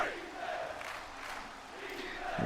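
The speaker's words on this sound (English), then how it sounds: "You can hear the Cookville crowd getting back into it again." Stadium crowd noise from the Cookeville home fans in the video game NCAA Football 06, a steady faint roar of cheering voices rising and falling over about two seconds, with no clear talk over it.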